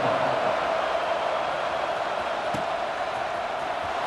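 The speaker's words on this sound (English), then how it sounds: "this crowd is buzzing after that last score" A football stadium crowd at a Penn State versus South Carolina game buzzes after a score, a steady, dense roar of many distant voices that holds at an even level throughout.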